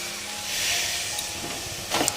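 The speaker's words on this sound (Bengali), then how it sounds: "এবার আমরা একটু জল দিয়ে দেব।" Water splashes into hot frying spiced masala for Bengali chicken kosha, giving a steady broad hiss of sizzling steam with a brief sharper burst near the end, no voices.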